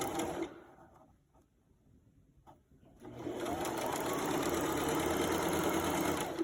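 A sewing machine back stitching a seam, starting with a brief burst, pausing near silence, then running steadily and moderately loud for several seconds.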